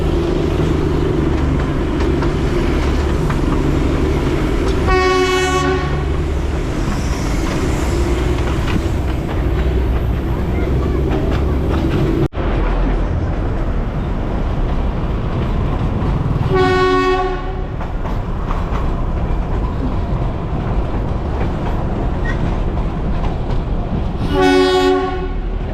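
Darjeeling toy train runs along tracks beside the road, with a continuous rumble of the carriages and three separate sharp horn blasts spaced out along the ride.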